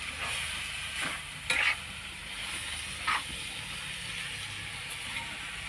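Chowmein fries in a pan with a steady hiss of sizzling oil, while a utensil stirs and scrapes it in a few sharp clicks, close by with no voices.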